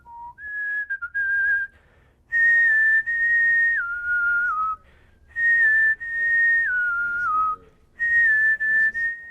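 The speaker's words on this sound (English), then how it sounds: "I'm always whistling, yeah." A person whistles a tune in several clear, close phrases of sustained and stepping notes, with short pauses between them and no talking.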